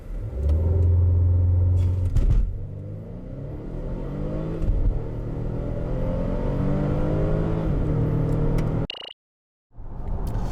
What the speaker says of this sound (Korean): 자, 최대 가속 성능 한번 볼까요?